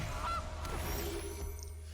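A goose honks from a Magic: The Gathering Arena card in a 2021 Standard match, a short nasal call heard alone over a faint steady background hum.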